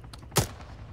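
A single loud gunshot from Arma 3 combat, a sharp close crack with a short tail, after a few faint distant shots.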